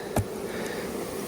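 Honey bees hum steadily at a beehive, a close, low, continuous buzz with a brief louder pass from a single bee near the start.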